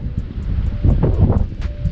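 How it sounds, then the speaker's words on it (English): Strong wind gusting across a lake shore, a steady broad roar with rising and falling gusts buffeting the microphone, close and loud, with no speech. "Look at this wind, isn't this crazy?"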